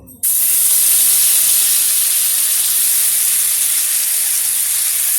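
Paneer tikka pieces dropped one by one into hot white oil: a sudden, loud, close hiss of frying that starts at once and holds steady and unbroken to the end, with no speech.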